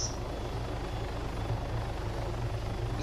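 Helicopter flying in the video game Arma, a steady low rotor drone with a pulsing beat, constant and moderately loud with no speech.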